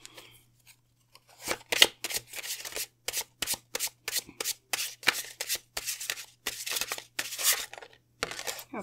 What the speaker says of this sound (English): to first draw our oracle cards